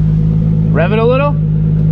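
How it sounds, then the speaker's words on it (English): A Nissan 350Z HR fitted with a full titanium Tomei exhaust gives one brief, rising rev over a loud, steady idle. It sounds close and aggressive and lasts about half a second before falling back. "Give it some gas. Rev it a little?"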